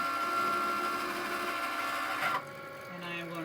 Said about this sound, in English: then you'll just send it to your Cricut machine